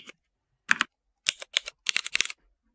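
Software-simulated brown-switch mechanical keyboard typing plays as sharp, close clacks in short irregular bursts with silent gaps between them, and no talking is heard.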